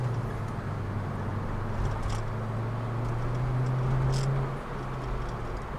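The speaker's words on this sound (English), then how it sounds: "see here, I don't know if you can get some of that engine noise." Engine drone from a Mercedes-Benz C55 AMG wagon while driving, a steady low hum with a rising tone that swells and then drops off, heard from inside with no talking.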